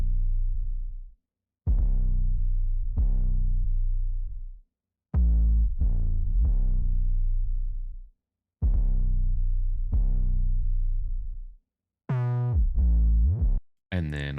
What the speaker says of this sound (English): I stole the bass from the